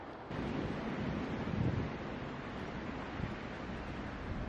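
Strong wind buffets the microphone on an icy path with blowing snow, a steady rushing roar with gusty swells, close and continuous, no voices.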